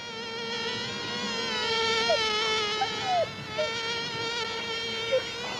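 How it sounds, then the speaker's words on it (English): Bees swarming around a hollow bee tree make a steady, dense buzz of many insects. The drone is rich and continuous, with a few individual bees passing close by. "A bee tree."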